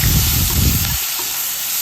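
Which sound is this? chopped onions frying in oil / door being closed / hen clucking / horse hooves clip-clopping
chopped onions frying in oil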